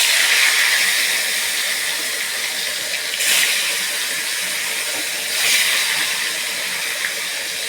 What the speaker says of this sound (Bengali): ভাজতে দিয়ে দিয়েছি মাছগুলো